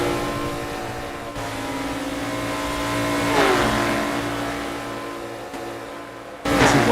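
NASCAR stock cars race at Daytona Tri-Oval in the Assetto Corsa sim, engines droning at high revs with rising and falling pitch as cars pass close together, one loud surge near the end.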